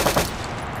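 Two quick gunshots ring out in the Unreal Engine game Hunters: Uprising, sharp close bursts followed by a decaying tail.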